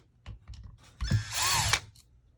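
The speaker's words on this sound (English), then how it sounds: "Are you unscrewing the gearbox?" A cordless power drill unscrewing the gearbox of a KWA TK45 airsoft replica gives a few faint clicks, then a short, loud whirring burst of about a second, close up.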